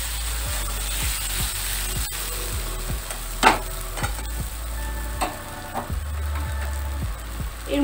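Potato pieces frying in a pan of hot oil for a Bengali potol ghonto, a steady close sizzle with repeated scraping stirs of a spatula against the pan and an occasional clack, no talking.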